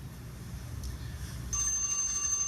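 A bell rings at a public meeting to signal that the two-minute time limit for public comment has run out, a bright sustained metallic tone that rises over low room noise partway through.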